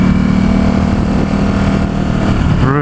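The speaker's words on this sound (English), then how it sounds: "the sound of this bike is just spectacular" A 2017 Ducati Supersport S runs hard on its stock exhaust, a loud, steady engine note that holds close and continuous the whole way through, climbing in pitch near the end as the rider accelerates on winding roads.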